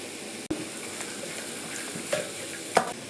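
Cashews are stirred into spiced masala with chili powder over a medium flame, a steady close sizzle broken by a few spoon scrapes and knocks against the pan.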